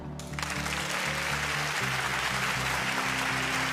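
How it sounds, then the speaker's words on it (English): Audience applause fills the hall at the European Inventor Award ceremony, a dense, steady wash of clapping that rises quickly and holds throughout, with a low tonal music bed underneath. "Who in here has used it? By a round of applause."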